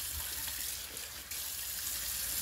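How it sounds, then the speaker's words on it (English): Tap water runs steadily while someone rinses their face after a shave, a continuous close hiss with a brief dip partway through. "Rinse my face."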